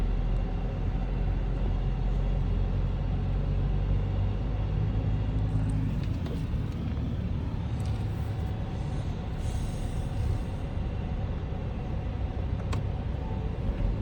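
An MG Majestor 4x4 crawls off-road in low range with the centre diff locked and no throttle, giving a steady low engine and drivetrain rumble with faint creaks and knocks over rough ground.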